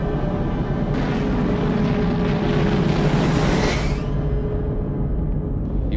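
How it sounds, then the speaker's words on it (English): A MiG-17 jet in War Thunder roars past in a loud, continuous rushing whoosh that builds and sweeps to a peak, then cuts off abruptly, leaving a lower steady rumble. "That aircraft is a MiG-17. He soars off and starts to turn back towards the tower."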